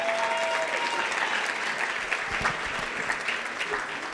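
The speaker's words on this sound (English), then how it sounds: "Let's give a round of applause for all the year's Broward Senior Hall of Fame awardees." Steady, full audience applause at the Broward Senior Hall of Fame awards ceremony, a loud continuous roar of many hands clapping for the honorees, with no voices over it.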